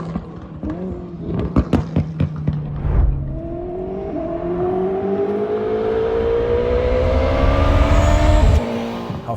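A Koenigsegg supercar engine with a nine-speed gearbox rising through several quick revs and gear shifts, then pulling hard in a long climbing acceleration that builds and fades, loud and close with no talk.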